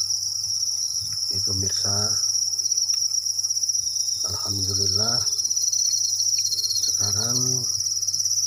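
Honey crickets in a breeding box give a continuous, steady high-pitched chirping trill throughout, while a person talks intermittently over it.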